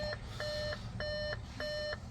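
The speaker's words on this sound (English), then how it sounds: "apologies for that annoying beep" A diagnostic tool connected to a 2014 Audi SQ5 turbo diesel beeps in a repeating pattern of short double-tone pulses, about three per second, steady and close with no voices.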